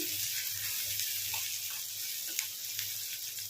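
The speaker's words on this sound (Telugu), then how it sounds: "ఉల్లిపాయలు అయితే ఇలా ఫ్రై అవుతున్నాయి కదా" Chopped onions fry in a pan for a chana dal and potato curry, giving a steady, fairly quiet broadband sizzle with a few faint spatters and stirring ticks, no voices over it.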